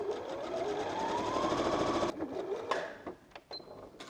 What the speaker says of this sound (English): I'm going to sew them together into cross shape.